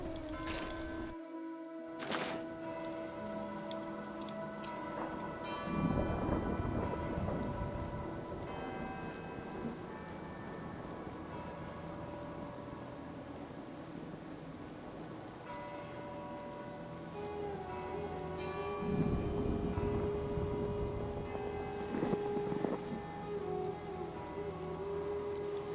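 Night thunderstorm in the Fallout 4 wilderness: steady heavy rain patters on surfaces, with low rumbling thunder swelling twice against a faint musical backdrop.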